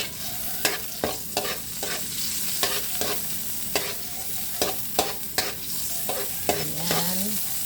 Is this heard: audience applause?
no